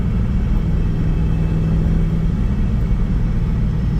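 A 1999 Pontiac Firebird Trans Am 30th Anniversary with a procharged LSX engine and LS7 heads rumbles steadily while driving, a loud, deep engine drone from inside the car with no break and no talk.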